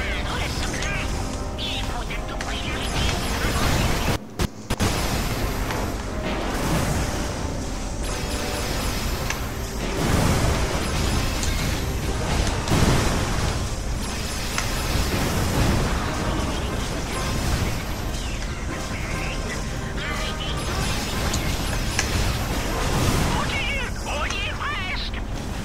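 Cannon fire and explosions in the video game Ratchet and Clank Opération Destruction, pirate base level, as dense continuous game noise with repeated booms and bursts, loud and busy throughout.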